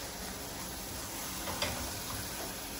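Daal ingredients are stirred in a cooking pot, a soft scraping swirl with faint sizzling under a steady hiss and one brief clink near the middle.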